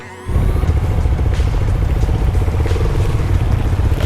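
A Honda Bigwing motorcycle pulls away on a monsoon ride, its engine rising from near silence into a loud, steady drone that holds continuously, close and alone.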